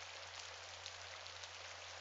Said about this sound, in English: It's midnight. There's rain outside.